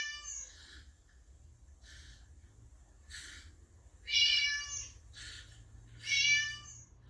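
A cat meows repeatedly in about six short, tonal calls spread evenly over several seconds. The later calls are louder, and the sound is close and clear with no talk.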